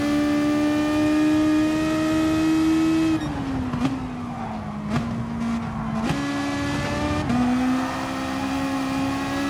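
Race car engine in GT Sport, a loud whining drone that drops in pitch and surges back several times as gears change through the middle stretch, then settles into a steady high note.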